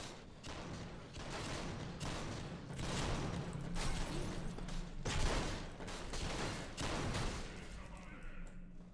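Gunfire in the shooter video game RIP: Final Bullet, with dense repeated bursts of shots and thuds running throughout, under people talking.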